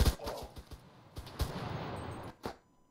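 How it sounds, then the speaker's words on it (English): Gunfire in the video game CRSED: F.O.A.D., with several sharp close bursts of shots in quick clusters, then a brief pause and one more shot, with no talk. "Yeah, he's shooting me."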